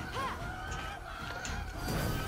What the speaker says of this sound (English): these chickens are just gonna keep squawking